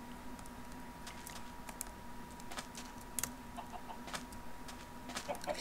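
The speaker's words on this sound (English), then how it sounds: "that chicken laid an egg" A chicken in the Minecraft video game clucks in a few short, faint bursts over a steady low game-ambience hum, with scattered clicking like keyboard typing throughout.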